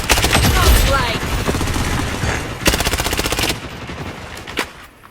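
Loud, close automatic gunfire in the shooter game Blood Strike, dense rapid bursts of shots rattling continuously with a brief pause before more fire.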